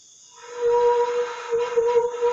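A saluang bamboo flute is blown close by, its breathy tone rising in and holding steady with slight wavering for a couple of seconds, no talking.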